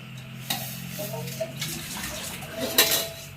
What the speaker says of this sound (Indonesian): Chef kita telah membuang air kepada ikat pencucian.